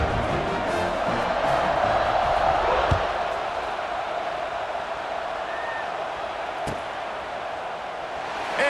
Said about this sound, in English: You think this crowd's going to get loud when their defense comes on the field?